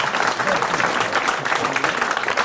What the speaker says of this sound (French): Des applaudissements pour le bénéficiaire du mandat.